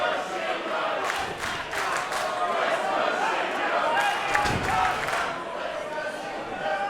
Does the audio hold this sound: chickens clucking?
no